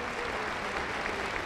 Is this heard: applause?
yes